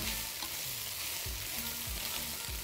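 Pasta being stirred into garlic frying in a pan: a continuous close sizzle broken by about five regular scraping, tossing strokes of the stirring, with no voices.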